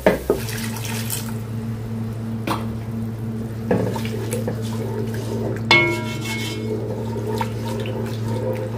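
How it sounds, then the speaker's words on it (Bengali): Water is poured into chicken curry spices while the masala is cooked down, a steady rushing splash punctuated by a few sharp clatters of cookware. "এখন পানি দিয়ে মশলাটা ভালো মতো কষায় নেব।"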